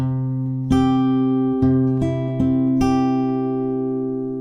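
Guitar finger-picking pattern played slowly, with bass notes and plucks on the 2nd, 3rd and 4th strings spaced out over ringing strings, about five distinct attacks, close and alone.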